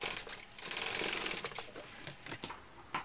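A sewing machine runs a basting stitch along a narrow seam on a small backpack, a close mechanical whirr that rises and falls in short bursts with brief pauses between runs.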